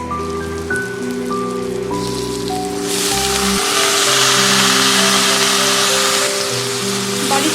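Boiled cabbage and fried potato drop into a hot frying pan, and the hiss swells into a loud, dense sizzle that carries on while a tonal hum from a nearby appliance sits underneath.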